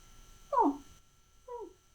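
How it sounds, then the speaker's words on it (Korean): An animal sound effect in a children's audiobook of the Momotaro folktale, two short whining, yelping calls half a second apart, the first louder, each heard alone against quiet. "섬으로 한참을 걷던 모모타로 앞에 멍멍 개가 나타나 말했어요."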